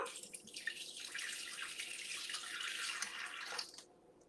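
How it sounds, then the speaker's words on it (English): Water pouring into a mixing bowl on a kitchen scale, 200 grams for okonomiyaki batter, a steady faint splashing hiss lasting a few seconds before stopping. "We're just going to add in 200 grams of water."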